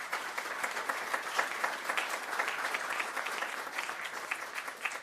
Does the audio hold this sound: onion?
no